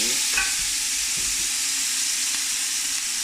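Steady loud sizzle of sautéing in a pan, white beans being browned in fat for a sauce, with a few faint scrapes of stirring and no talk.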